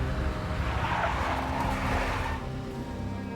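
Car tires skid and squeal in the video game Max Payne, a loud sustained screech with engine noise that fades toward the end.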